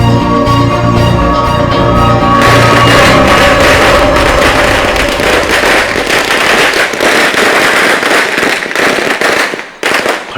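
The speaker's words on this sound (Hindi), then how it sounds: "पटाखे तो फूट गए" Loud, dense bursts of firecrackers popping and cracking continuously, a rapid crackling barrage close by with sharp bangs throughout.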